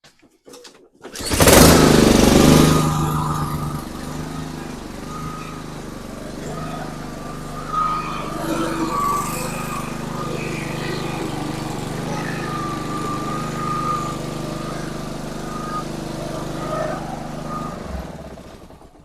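A Honda lawn mower with a surging, rough idle and freshly cleaned carburetor is pulled and fires up with a loud burst, then settles into an uneven running drone that holds for about fifteen seconds.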